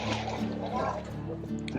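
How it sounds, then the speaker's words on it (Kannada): A bucket of water sloshes and splashes as it is emptied into a big catering pot of mutton biryani, fairly close, with a voice talking over the pour. "ನೋಡಿ ಇದಕ್ಕೆ ಟೋಟಲ್ 6 ಬಕೆಟ್ ನೀರು ಹಾಕ್ಕೊತಾ ಇದ್ದಾರೆ."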